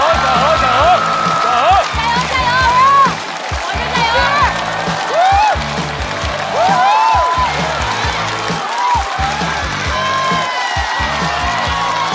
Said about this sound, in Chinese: 掌声欢迎何广智